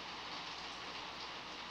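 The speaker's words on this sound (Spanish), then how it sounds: "Ya está lloviendo, este ruido es lluvia, está lloviendo fuertemente." Heavy rain pouring steadily onto patio roof tiles, a dense continuous hiss with no breaks, fairly faint and without any voices.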